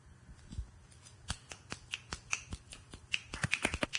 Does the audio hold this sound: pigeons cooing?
no